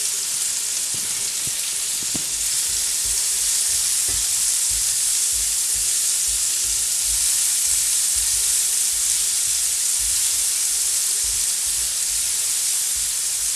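Two shallots frying in a pan with salt, a steady loud sizzle and hiss running throughout with a few faint clinks early on, close and without talk.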